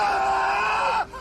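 A scream sound effect, a loud sustained strained cry lasting about a second, then cutting off abruptly.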